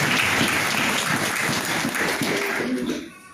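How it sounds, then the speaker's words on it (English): Church congregation applauding during a service, a dense wash of many hands clapping at steady volume before fading out near the end. "Can you clap hands for service?"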